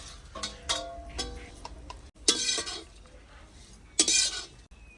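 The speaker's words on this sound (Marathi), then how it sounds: "तेल टाकून खोबरं भाजून घेत आहे" Grated coconut roasting in oil in a pan for a rustic Maharashtrian dish, stirred with a utensil in short scraping bursts and clinks against the metal, with brief pauses between strokes.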